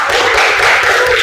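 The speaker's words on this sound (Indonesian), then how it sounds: "Oke, tepuk tangan dulu." A classroom group clapping together, a brief, dense burst of many hands applauding at close range with no pause.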